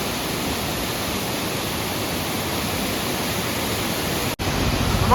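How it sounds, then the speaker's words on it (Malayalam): A monsoon-fed waterfall in the hills around Teekoy and Mangalagiri sends up a loud, dense, unbroken roar of falling water that fills the whole scene, with one very brief dropout near the end. "അതിമനോഹരമായൊരു വെള്ളച്ചാട്ടം."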